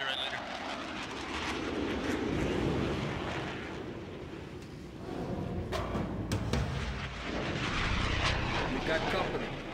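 Jet aircraft roar from F-16 fighters flying in formation in a 1997 action movie, a loud continuous rumbling whoosh that swells and fades in waves, with overlapping effects and voices over it.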